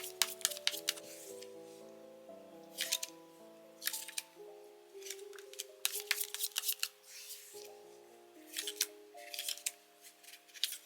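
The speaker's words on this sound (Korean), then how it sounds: "카드를 뽑아보도록 할게요." Tarot cards shuffled by hand in quick bursts of crisp riffling and slapping, close and fairly quiet, with soft music underneath.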